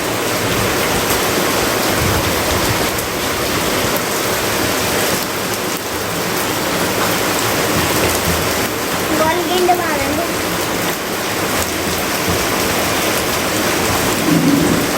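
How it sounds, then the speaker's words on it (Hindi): Heavy monsoon-season rain pours steadily and loudly, a dense broadband hiss of water on surfaces with low rolling thunder underneath, constant throughout with no pause. "बारिश की आवाज़ आप सुन ही रहे हैं, कितनी ज़ोरदार बारिश हुई है"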